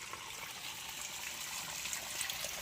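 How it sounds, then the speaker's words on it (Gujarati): Water running from a tap just turned on in a village yard, a steady close trickle and splash that continues evenly without any voices. "જો આ બાજુ તો આપણે તો આ બાજુ ચાલુ કરી દીધું છે પાણી."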